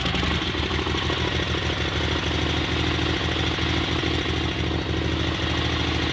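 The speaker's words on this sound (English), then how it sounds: "I'm going to crank it up and let you guys have a running look at the system" A Sears Suburban garden tractor engine runs steadily with a loud, continuous mechanical chugging and rattle, close by and unchanging throughout, with no voices.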